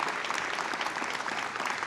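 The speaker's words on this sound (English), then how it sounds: "Let's give a round of applause for everybody who came out tonight to celebrate" A crowd claps steadily at an outdoor Pride illumination celebration in Columbus, a dense continuous patter of applause filling the moment with no speech over it.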